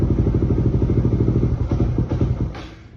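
A motorcycle engine fitted with an Aracer RC Mini X ECU idles close by in a fast, lumpy, pulsing rhythm, then fades and drops away near the end.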